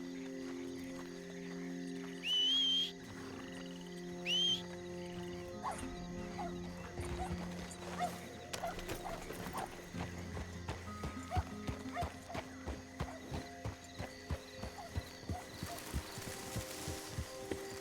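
Horse hooves clip-clop through a busy video game scene in a western roleplay, the rhythmic steps moderately close under layered ambient noise, with occasional animal calls and brief voice-like sounds.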